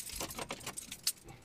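A bunch of car keys jangles close up inside a car, a quick series of bright metallic clinks and rattles, with one sharp clink near the end.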